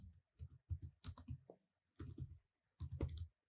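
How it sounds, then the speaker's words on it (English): Typing on a computer keyboard, close and distinct, in short bursts of rapid key presses separated by brief pauses, with nothing else heard. "I'm going to type inside it total"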